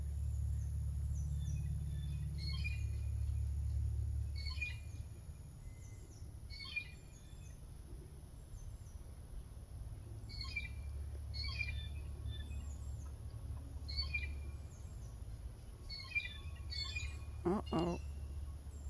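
Birds chirp and sing in a backyard in short scattered bursts throughout, fairly faint over a low background hum, with a single sharper sound near the end.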